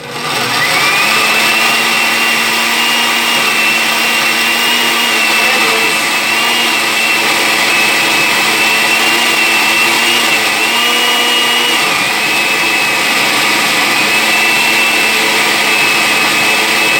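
A blender grinds Haitian epice with garlic, a loud continuous motor whine running unbroken for the whole stretch, its pitch dipping briefly as the load shifts, with no voices.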